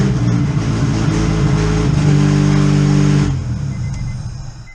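A car engine with a bad exhaust leak runs loud and close, a rough rumbling drone with a brief rise in revs before it settles and fades lower near the end.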